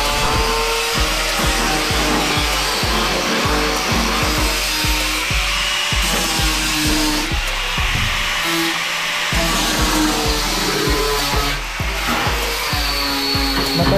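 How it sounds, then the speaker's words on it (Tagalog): Angle grinder smoothing the sharp fiberglass edge of a pool table in a workshop, a loud continuous whine broken by a steady series of rhythmic scraping pulses as the disc works along the edge. "Grinder na rin yung gilid."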